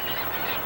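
Seagulls on an Ocean City, New Jersey beach give a brief, harsh honking call up close, a single short burst against breezy outdoor noise.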